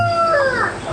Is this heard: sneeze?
no